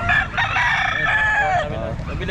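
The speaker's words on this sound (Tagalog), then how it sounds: "Ito po mga manok niya po." Roosters crow and chickens cluck at a live pet market in Calumpit, loud and close, with a long crow stretching across most of the moment amid busy market din.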